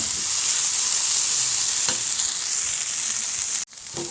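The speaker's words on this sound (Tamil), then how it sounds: "நல்லா வதக்க வதக்க தான் அந்த பூவோட துவர்ப்பெல்லாம் போகும் அதனால் நல்லா எண்ணெயிலே நல்லா வதக்குங்க" Chopped banana flower sautéed in oil, a loud continuous sizzle with a few soft stirring scrapes, close up, cutting out briefly near the end before resuming.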